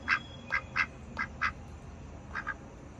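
A duck quacks in short bursts on a busy New York street, seven quacks in loose pairs and a triple over a low steady rumble of city traffic.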